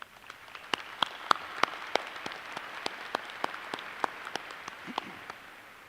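Scattered applause at a Murray State University undergraduate commencement ceremony in May 2021, sparse individual claps ringing out sharply across a large, reverberant space, quiet and thin rather than a full ovation.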